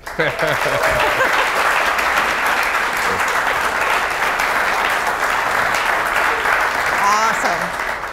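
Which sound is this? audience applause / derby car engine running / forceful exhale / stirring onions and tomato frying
audience applause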